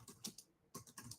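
Quiet typing on a computer keyboard, bursts of soft clicking keystrokes with a short pause in the middle, close by and alone.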